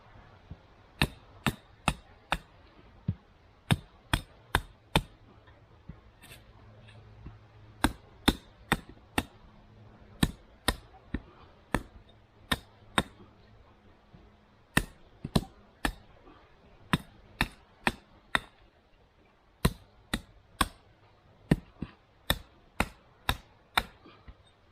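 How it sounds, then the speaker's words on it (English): An axe chops wood ends down to a point outdoors, sharp crisp strikes landing one after another in an uneven but steady rhythm, each knock clear and distinct against quiet surroundings. "So get your axe and just point the ends off to a nice point."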